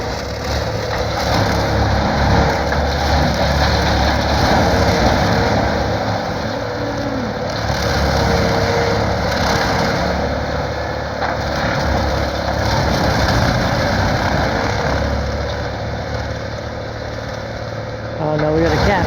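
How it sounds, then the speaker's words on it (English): A tractor engine labors hard in a field of reed canary grass, a loud continuous rumbling drone with crunching, churning texture that runs throughout, close by. "She's really making the tractor work."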